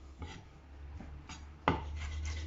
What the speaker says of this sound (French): je le concasse quand même assez finement